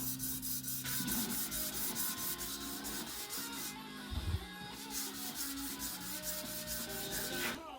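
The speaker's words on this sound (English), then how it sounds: "that was just some straightforward hand sanding" A custom dagger blade bevel is hand sanded up to 800 grit, with quiet, rhythmic back-and-forth rubbing strokes repeating steadily and a brief pause partway through.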